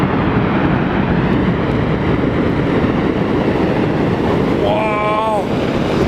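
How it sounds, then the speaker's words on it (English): A piece of glacier breaks off and crashes into the water in Iceland, heard from a tour boat as a loud, sustained roaring rumble, with a voice briefly exclaiming near the end. "a piece of the glacier actually broke off and"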